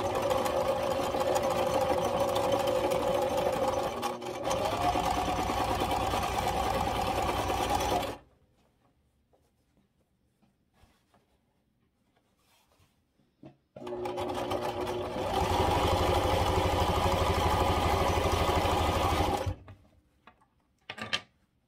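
A sewing machine stitches fabric for a Halloween cushion, running steadily for several seconds, stopping for a quiet pause, then starting up again for another steady run.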